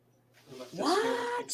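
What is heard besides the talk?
cat meowing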